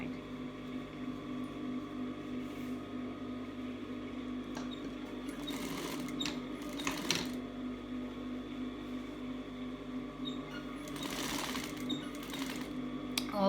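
A sewing machine stitching a cloth mask runs with a continuous steady mechanical hum, its motor rising in louder bursts of rapid stitching mid-way and near the end, close by with no talk.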